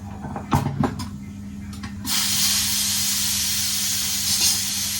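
A few sharp clicks and clatters as a pressure cooker of rice is opened, then a loud, steady rush of hissing steam starts abruptly and continues to the end, close and strong.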